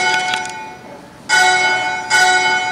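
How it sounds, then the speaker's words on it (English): Bell in the Washington National Cathedral bell tower ringing, two loud resonant strikes with long sustained humming overtones, heard close and alone. "the bell is swinging higher and higher in the arc of the circle"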